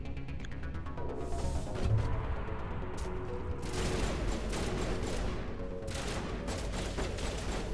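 Shotgun blasts in the sci-fi shooter Mass Effect 1 during a mission, firing repeatedly in bursts amid game combat noise and music, moderately loud with no talk.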